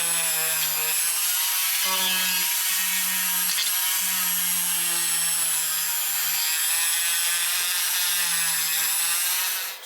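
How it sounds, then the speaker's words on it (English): A power polisher buffs and cleans an object during an upcycling project for a cottage, giving a steady, loud whirring hum with a few brief dips as it is pressed and lifted, running continuously without talk. "let's change this over for the polisher"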